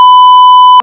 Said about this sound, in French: mais on va biper